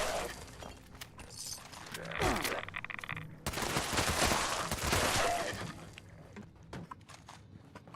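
Gunfire in the video game Fallout 76 comes as rapid bursts of shots with glassy shattering, loud and close, over game music and sound effects.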